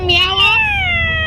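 A person imitates a cat with one drawn-out, convincing meow that rises and then slowly falls, close and loud over a faint room background, heard on a radio call-in.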